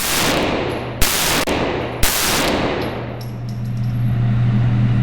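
Rifle shots fired outdoors at a target while testing an Aimpoint PRO red dot sight, two sharp loud cracks about a second apart, each followed by a ringing tail and a distant metallic ping.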